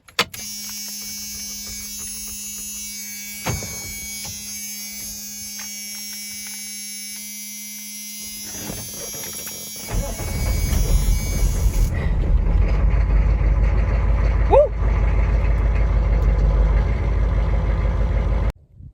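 A 6.5 turbo diesel truck engine whines and buzzes at first, then cranks and catches around the middle before settling into a loud, steady diesel idle that runs to the end.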